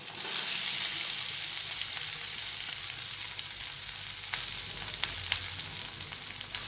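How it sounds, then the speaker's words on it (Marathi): Boiled potatoes go into a hot pan for a fasting-day potato bhaji and fry with a steady, fairly loud sizzle that fills the whole stretch, with a few faint clicks and stirring knocks near the end. "आता बटाटे उकडलेले टाकून घेते."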